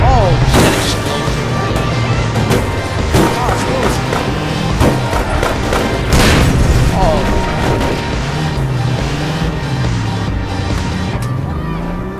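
Explosions in the APB video game burst out as repeated loud, booming blasts over a dense, rumbling game soundscape, with a voice talking at times.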